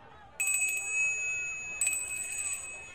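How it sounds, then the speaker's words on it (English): Two clear rings of a small bell in a radio drama, each a bright ding with a shimmering decay, over a steady low background hiss. "Every time you hear a bell ring, it means that some angel's just got his wings."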